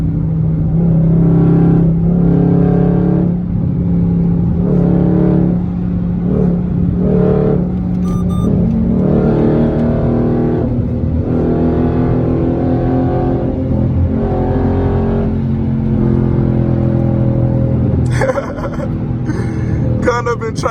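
A Dodge Charger SRT8 engine revs and accelerates in third gear through traffic, with loud, close, rising and falling engine pulls and someone talking over it throughout.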